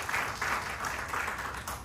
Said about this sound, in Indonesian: Beri tepuk tangan meriah-meriah lagi.